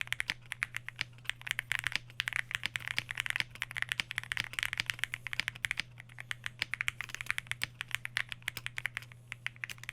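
Dense, steady typing on an IQUINIX Super 1+1 TKL mechanical keyboard with double-shot PBT keycaps: rapid, close clacking keystrokes run continuously over a low steady hum.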